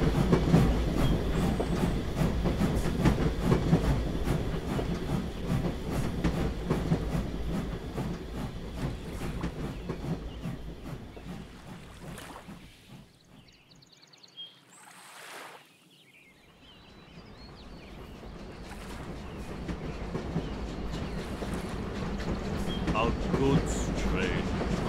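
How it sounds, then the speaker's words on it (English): A toy Tomica Thomas & Friends goods train runs along its track at a Tidmouth Tunnel layout with a continuous close clattering rattle that thins out briefly midway, then swells back to full loudness. "A goods train."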